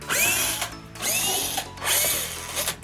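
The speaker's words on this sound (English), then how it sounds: "Luckily, Darryl has a drill with adapters for sockets, and we're gonna be using this 8mm to take all these screws out." A power drill fitted with an 8mm socket adapter backs screws out of a BMW M2 CS during disassembly, three close whirring bursts with rising and falling pitch and short pauses between them.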